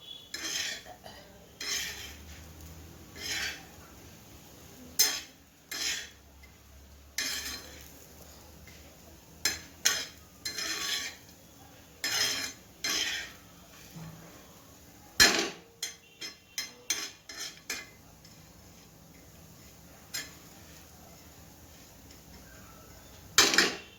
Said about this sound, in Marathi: तर चटणी आपण व्यवस्थितपणे परतून घेणार आहोत।